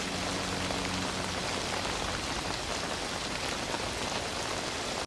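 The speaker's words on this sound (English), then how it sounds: "In the rain." Rain from The Ring film falls in a dense, continuous hiss and patter on surfaces, loud and steady throughout with no voices.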